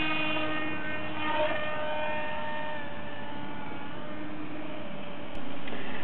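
A model airplane in flight: a steady droning engine hum with layered high whining tones holds constant throughout, like a small propeller aircraft buzzing overhead, with no voices.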